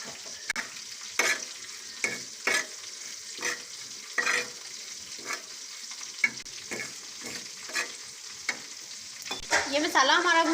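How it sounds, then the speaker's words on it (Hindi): Whole cumin seeds are dry-roasted in a pan with salt and crushed coriander, a soft sizzle under repeated scraping strokes of a spoon at an even pace, close and clear. "इसी में हाफ टी स्पून साबुत जीरा डालेंगे और इसे हल्का सा भून लेंगे"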